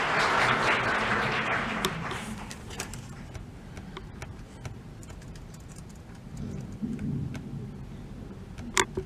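An audience applauds a deputy minister of digital transformation at a speech event: dense clapping starts loud, then thins and fades to scattered claps before swelling again near the end.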